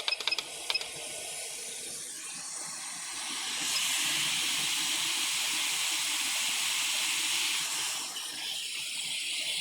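A hot air station blows through a small nozzle over a circuit board during an FPV video receiver repair, a steady close hiss that swells louder midway and then eases back, with a few faint beeps at the start.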